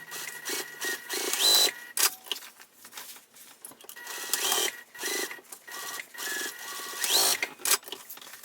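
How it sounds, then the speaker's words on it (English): A sewing machine runs a seam on a tote bag in several bursts of fast stitching, with short stops and restarts between runs. "Go ahead and sew it with that same seam allowance, back stitching when you start and stop."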